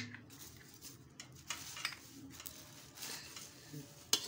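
Chivda of thin poha flakes being gently stirred in a pan with salt and powdered sugar, giving soft scraping and rustling with light clinks of a spoon against metal, steady and close with no talk.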